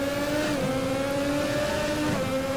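A classic Formula race car in the sim racing game Automobilista at Jacarepagua revs sharply during a downshift blip, a loud, close engine whine that rises and dips briefly, with no voices.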